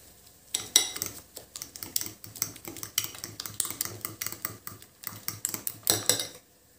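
Beaten eggs with cheese and spices are mixed in a bowl, a fork or whisk clicking rapidly and steadily against the sides, loud and close with no talking.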